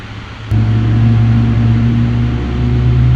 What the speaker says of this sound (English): That's the sound of a 777 engine, right?